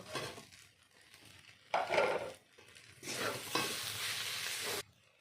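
Fried puti fish tipped into a cabbage curry cooking in a pan, giving a sudden burst of sizzling and stirring, then a longer stretch of hissing frying that stops abruptly; close and clear, with no voices.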